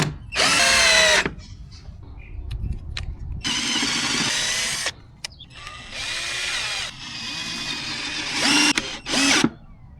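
A 21V cordless drill from a Sundpey home repair tool kit whirs in several loud bursts of a few seconds each, with brief pauses and small clicks between runs.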